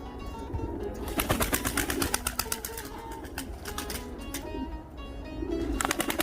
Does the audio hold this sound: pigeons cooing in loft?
yes